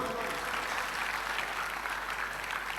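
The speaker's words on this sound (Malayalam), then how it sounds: "വെരി ഗുഡ് ഒരു ക്ലാപ്പ് കൊടുക്കുവാന്" An audience at a Malayalam religious class gives a round of applause, dense steady clapping from many hands, fairly near and continuous throughout.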